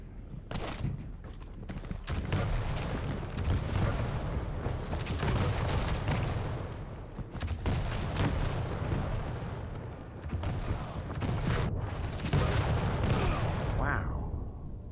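Nail gun firing in the arena shooter Quake Champions, continuous rapid shots and impacts mixed with booming game combat throughout, fairly loud and busy.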